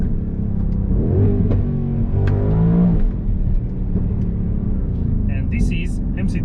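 A pre-facelift Mercedes-AMG GLC 63S with a V8 and no particulate filter revs loudly, its deep exhaust rumble rising and falling in a couple of surges, with someone talking over it throughout.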